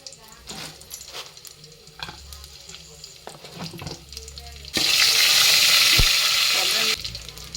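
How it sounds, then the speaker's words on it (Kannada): Tempering of cumin, mustard seeds and garlic hits hot oil with a loud, steady sizzle lasting about two seconds, while people talk and kitchen clatter sounds before and after. "ಅದಕ್ಕೆ ಒಗ್ಗರಣೆ ಕೊಡ್ತಾನೆ"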